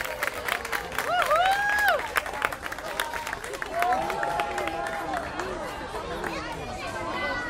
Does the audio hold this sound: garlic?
no